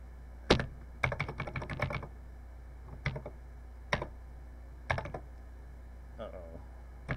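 Typing on a Texas Instruments TI-99/4A computer keyboard: bursts of quick, close key clicks with a fast flurry early, then single spaced presses and short pauses.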